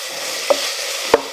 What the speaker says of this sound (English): Let's stir that bacon around. Can you hear it sizzling?